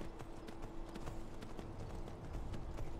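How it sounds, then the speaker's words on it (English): A horse's hooves clip-clop in a steady, rapid rhythm on the ground in the video game Skyrim, heard close and continuous with no voices. "You're a good horse."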